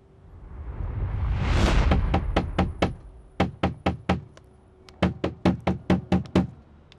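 A series of loud, sharp knocks on a door: several rapid raps after a rising swell of noise, then two quick bursts of four or five hard knocks each, close and clear with no talking.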